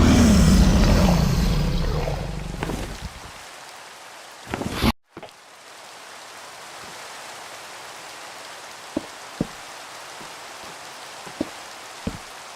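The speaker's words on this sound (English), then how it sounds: "God, this rain is a pain." Steady rain hiss from the Minecraft SMP video game fills the background, loud at first and then softer, with a few sharp clicks near the end.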